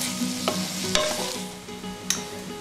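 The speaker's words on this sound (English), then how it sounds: "a couple pinches of that salt, and stir it. I'm gonna remove everything that is stuck on the bottom of the pan." Shrimp and shells with a couple pinches of salt get stirred in a pan to free bits stuck to the bottom, a loud close sizzle punctuated by three sharp utensil scrapes.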